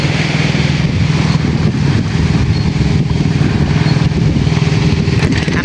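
A fishing boat's engine comes back in from sea, a loud, close, steady mechanical drone and chug that stays even throughout with no talking.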